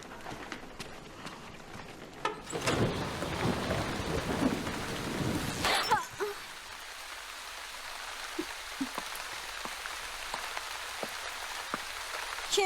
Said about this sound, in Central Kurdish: باران باریوە دیسان وایرەکان لێ کەوتوم.